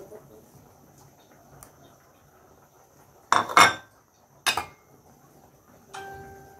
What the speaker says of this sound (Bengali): বন্ধুরা, এখন আমি আলুগুলা দিয়ে দিব।